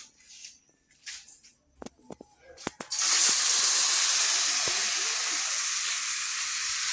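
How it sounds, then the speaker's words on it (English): Food dropped into a hot pan for Filipino cooking bursts into a loud, steady frying hiss that holds close and bright after a few quiet clicks and handling noises, with a voice briefly heard beforehand. "and now it's time to fry."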